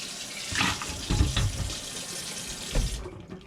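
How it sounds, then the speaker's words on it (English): Water swished around a jar of sprouting seeds during rinsing, a close, brief sloshing and splashing with two stronger surges, ending in a quiet drip, no voices. "swish it around with water and you'll get them down"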